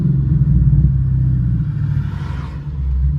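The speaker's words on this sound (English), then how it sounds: "I'm gonna give you guys a listen to what it sounds like with the intake now hooked up" A car fitted with a Steeda cold air intake idling at low RPM, a steady deep rumbling engine drone with a faint rising whoosh near the end, close and loud.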